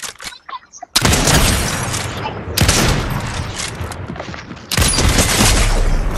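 Gunfire in the Fortnite video game rattles out in loud, dense bursts, three sustained volleys cutting in after a quieter start, heard close and continuous.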